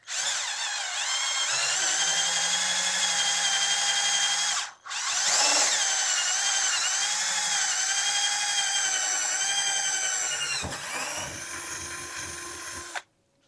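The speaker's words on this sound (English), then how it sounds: "I want to go and drill a hole." A power drill whines steadily as it bores a hole for a motor mount on a Traxxas Sledge RC truck, pausing briefly once before running on at high speed, then stopping abruptly.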